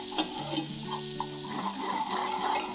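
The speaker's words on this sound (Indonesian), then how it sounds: "Kacau sampai masak larut." A roux of flour and butter for a meatball brown sauce, stirred in a pan over the heat: a soft, steady sizzle with repeated scraping strokes of the utensil, close and without voices.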